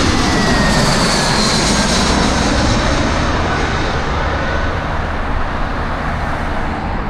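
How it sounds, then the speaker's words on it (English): A jet airliner from Berlin roars overhead at Heathrow Airport, loud and steady, its broad engine rumble with a faint whine sweeping slowly as it passes. "Next plane coming from Berlin."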